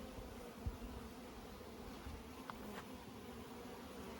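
Bees in a large beehive give a steady, dense buzzing drone close by, faint in level, with a couple of small knocks from handling.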